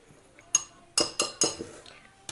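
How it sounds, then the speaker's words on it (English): Dry pancake ingredients of flour, salt and sugar mixed in a bowl, heard as a few sharp utensil clinks and taps against the bowl, close and distinct in a quiet room. "That's all the dry ingredients, so I'm just going to mix this up a little bit."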